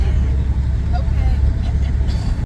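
Rumbling car exhaust from a vehicle coming around a corner toward home, a steady low engine drone with a slightly congested, throaty tone, fairly loud and continuous throughout.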